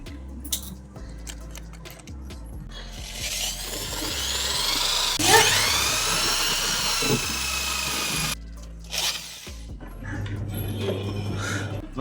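Electric drill boring holes into a wall for pipe fitting, a loud whining motor that rises and falls in pitch over several seconds, with brief pauses and mechanical rattle.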